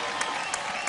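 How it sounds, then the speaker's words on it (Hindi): Studio audience on a talent show clapping for a contestant, a brief burst of crowd applause with a few sharper claps standing out. "जोरदार तालियां हो जाए हमारी वेरी क्रिएटिव चैलेंजर शारिब के लिए"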